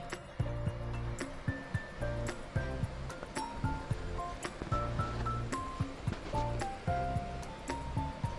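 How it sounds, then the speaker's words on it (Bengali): Partly cooked rice for egg biryani is drained of its water, giving a steady rushing pour with scattered metallic clinks from the pot and strainer over soft background music. "সব ভাতগুলো আমি ছেঁকে নিচ্ছি।"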